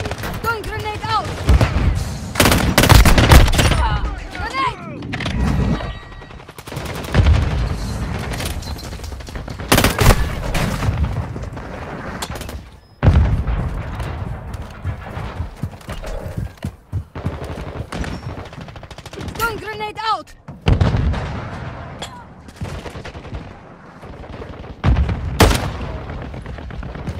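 Warzone Mobile battle with bursts of automatic gunfire, booms and explosive blasts, a grenade among them, loud and near across the whole stretch, with brief quieter gaps and in-game voices talking now and then.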